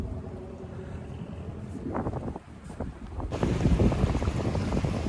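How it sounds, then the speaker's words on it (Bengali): Small river waves lap beside three moored fishing boats at a riverside landing in Bangladesh, with wind buffeting the microphone and a rougher, louder wash in the last couple of seconds. "নদীর এই ছোট ছোট ঢেউ,"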